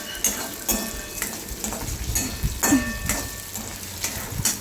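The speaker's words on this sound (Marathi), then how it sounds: "मी आता बटाटे आधी तळून घेणार आहे तेलामध्ये" Potatoes frying in hot oil for sabudana khichdi, a steady close sizzle broken by repeated scraping stirs of a spatula against the pan.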